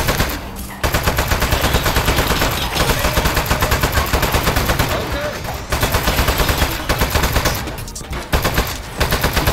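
An automated turret in the video game Aperture Desk Job fires loud, rapid machine-gun bursts, a dense rattling stream broken by a few brief pauses.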